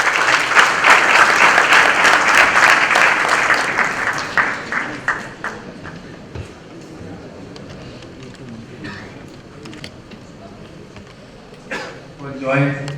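A large audience at the Priyadarshni Academy 32nd anniversary event gives a big round of applause to welcome a guest. The dense, loud clapping swells at first, then fades over a few seconds and gives way to a speaking voice.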